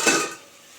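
A metal lid lifted off a pot of pea greens cooking on the stove gives a short clank and scrape up close, followed by a soft fading hiss of steam.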